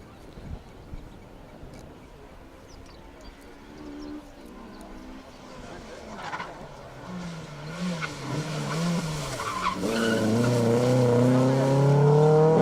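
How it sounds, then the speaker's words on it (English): A BMW 1M rally car on a Manx Rally 2023 stage approaches from a distance, its engine growing steadily louder and revving harder as it nears, with faint birdsong and possible voices in the background early on. "Ben Teggart alongside in the BMW 1M."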